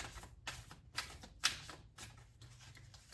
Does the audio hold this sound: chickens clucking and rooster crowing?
no